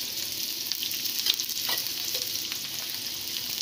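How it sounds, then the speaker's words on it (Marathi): Sliced onion, tomato and coconut fry in hot oil in a pan, with a constant close sizzle broken by scraping stirs and small crackles, and no talking. "हे चांगलं गुलाबी होईपर्यंत फ्राय करून घ्यायचं।"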